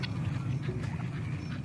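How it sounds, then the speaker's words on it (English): Backyard ducks kept alongside chickens quack in a quick, nasal run of calls, close by, over a steady low background rumble. "I went ahead and got chickens and ducks."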